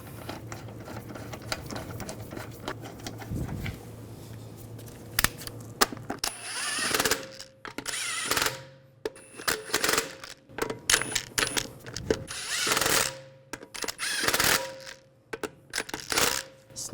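Wheel lug bolts are threaded in and snugged with tools while a front wheel goes back on a 2009-2017 Volkswagen Tiguan 2.0L, giving a low whir, then rapid ratcheting bursts and metallic clicks in uneven spurts.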